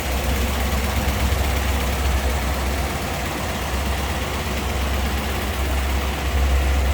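A 1957 Ford Thunderbird V8 idles steadily with a deep, even rumble, close and loud throughout, alone without voices.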